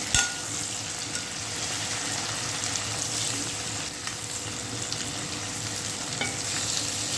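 Food fries in hot oil with a constant loud crackling sizzle, close up and unbroken for several seconds, with faint stirring underneath and no voices.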